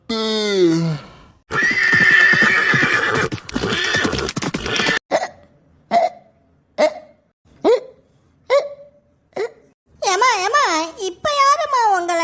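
A cartoon horse whinnies loudly at the start, followed by a child-like voice chattering, then a run of evenly spaced short hiccup-like yelps, and more high whinnying calls near the end.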